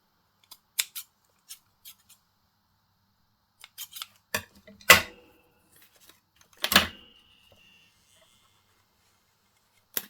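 Scissors snip repeatedly, a series of crisp cutting clicks at irregular intervals with a few louder snips and quiet pauses between.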